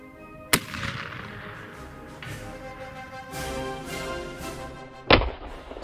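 A Mk II** Snider Short Rifle firing at 300 yards outdoors: two loud, sharp cracks about four and a half seconds apart, each trailing a fading ring, with no talking.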